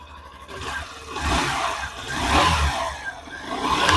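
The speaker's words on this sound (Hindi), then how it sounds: "अब मैं आपको सुनाता हूं इसकी इंजन साउंड" A Bajaj Platina 100 cc 2025 self-start motorcycle engine idles and revs up, its rumble rising and falling at close range with no talking.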